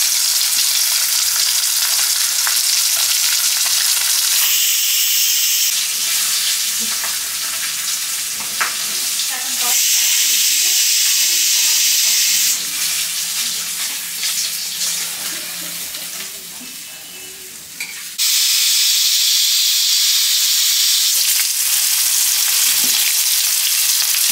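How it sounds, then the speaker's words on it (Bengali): Bata fish fry in a pan with a loud, close, hissing crackle that comes in long stretches broken by abrupt quieter gaps, with a few clinks of a utensil and no one speaking. "মাছগুলো আমি তুলে নিচ্ছি। মাছগুলো ভাজা হবে।"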